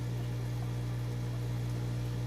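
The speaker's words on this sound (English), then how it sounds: "I apologize for the buzzing. I have some more powerful pumps out here than I do on the 300." Powerful aquarium pumps in a fish room give off a steady, loud low-pitched buzz with an even electrical hum that holds unchanged throughout, close by and without any talk.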